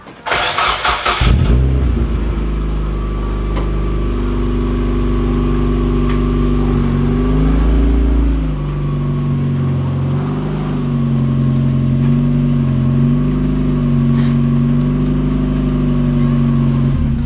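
A turbocharged Mazda Miata with an aftermarket exhaust fires up, then idles with a throaty exhaust rumble, revving up and down a couple of times, close and loud.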